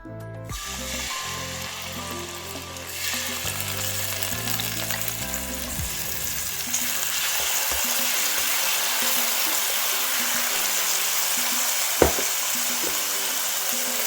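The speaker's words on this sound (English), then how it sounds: "we are just gonna incorporate all the vegetable over here" Vegetables fry in olive oil with a loud, sustained hiss and crackle that swells as they hit the hot pan, stirred now and then, with a faint tonal hum underneath early on and a single sharp clink near the end.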